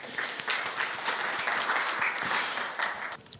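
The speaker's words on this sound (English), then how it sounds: "Round of applause." Audience applause for speakers taking the stage at a technology conference session, a steady dense wash of many hands clapping, fairly loud, fading out near the end.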